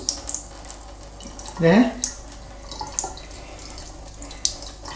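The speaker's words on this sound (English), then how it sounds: "Do you want me to turn the tap on?" A cold tap runs water into a cat's bowl, a short trickle and splash with rising gurgling tones amid faint drips, while a person speaks quietly nearby.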